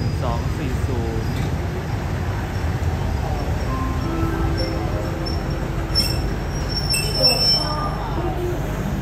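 Freight train hauled by a CSR SDA3 locomotive at a Thai railway junction, with heavy rolling rumble and long high-pitched wheel squeals rising and falling, loud and near, while a voice talks over it.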